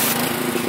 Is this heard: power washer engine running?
yes